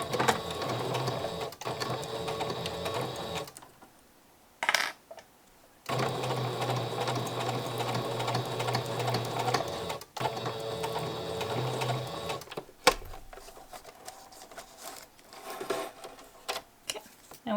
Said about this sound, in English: I will sew around it as well